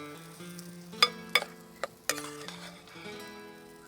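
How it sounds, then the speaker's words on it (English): Mussel and prawn fritters fry in olive oil on a flat pan over low heat, giving a soft steady sizzle broken by a few sharp metallic clinks of a utensil against the pan. "Sizzle it with a little bit olive oil on a flat pan, and we fry our fritters."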